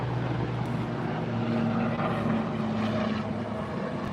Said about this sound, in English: Wow, super loud helicopter.